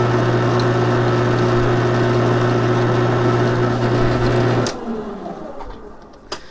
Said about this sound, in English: I like to drill it in little ways and then back it off.